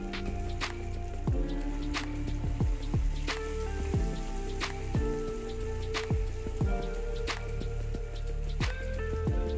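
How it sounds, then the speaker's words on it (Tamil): Ripe banana paniyaram batter drips into ghee in a hot paniyaram pan, making a run of soft plops and wet squishy sizzles spaced out one after another, close by and steady. "மாவை கொஞ்சம் கொஞ்சமாக 3/4 குழி இல்லைன்னா 1/2 குழி ஊற்றினா போதும்."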